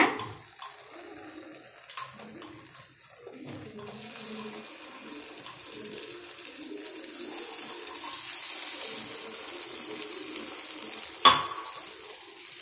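Idli batter sizzling as it is poured into hot oil in the hollows of a paniyaram pan, a steady soft hiss and crackle rising over several seconds, with a brief sharp clink near the end.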